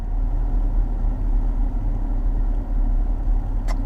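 An Audi RS3 engine idles close by, a steady low burbling rumble with slight pulsing, continuous and unaccompanied by voices.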